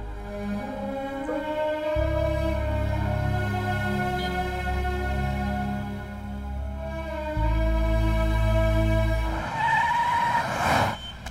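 A car speeding along with strong engine drone and tire skidding, loud and close throughout, ending in a brief rough burst of noise.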